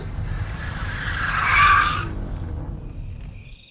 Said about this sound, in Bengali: গাড়ি থামায় সৌগত